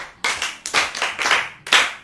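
Hands clap out loud, sharp bursts for a child on a children's programme, several claps landing in quick uneven succession and close up, with no voices over them.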